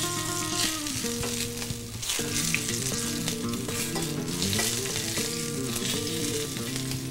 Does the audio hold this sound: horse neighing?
no